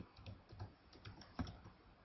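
Keys clatter on a computer keyboard in quick, irregular taps, close and fairly quiet, with one slightly louder keystroke partway through.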